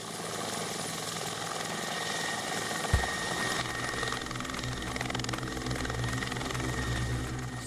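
A military helicopter used in Indonesian navy special forces insertion training flies nearby with a loud, steady rotor and engine drone, holding constant throughout with one brief thump partway in.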